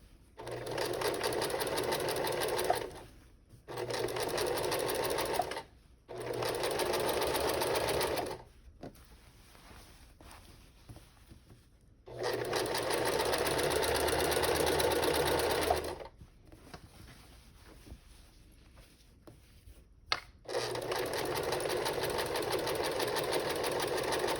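A sewing machine stitches a tote bag seam in several bursts of steady whirring, separated by short pauses, up close and alone.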